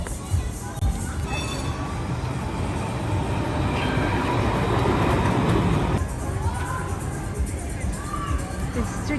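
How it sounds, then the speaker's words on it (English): A train rolls past in a town on the Rhine, a steady rumbling wash of wheels and rail noise that stays loud and close throughout, with faint crowd murmur in the background. "There's a train."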